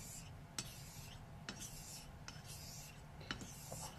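Blade drawn over a Japanese natural whetstone after a coarse synthetic stone, giving steady wet rasping strokes with a few sharper scrapes in an even back-and-forth rhythm, close and alone.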